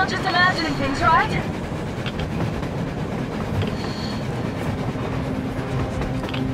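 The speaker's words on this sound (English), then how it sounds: "A train! A damn train on the surface!" A train in the video game Metro Exodus rumbles past with a continuous clattering roar and rhythmic metallic clicks, fairly loud, with brief shrill squeals near the start.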